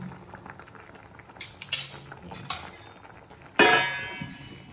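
Metal clanks and scrapes of a lid going onto a cooking pot of shrimp sinigang, several sharp clinks of metal against metal, the loudest near the end, over a low background simmer.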